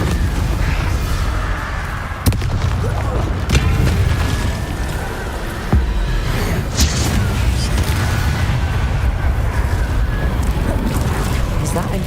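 Incendio fire spell cast in Hogwarts Legacy: a dense, loud roar of booming blasts with sharp cracks and continuous rumbling; a voice speaks over the noise.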